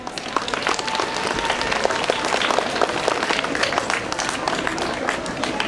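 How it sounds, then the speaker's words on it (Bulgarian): Audience applause at a children's Europe Day school performance in Vratsa, steady dense clapping from a crowd for the full stretch with a few voices mixed in. "Вашите аплодисменти"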